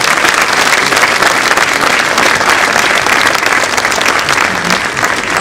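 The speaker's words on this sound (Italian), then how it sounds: "un applauso davvero a loro" Sustained, loud applause from a conference audience at the inauguration of an astronomy and space pavilion, steady dense clapping filling the whole stretch with no talk over it.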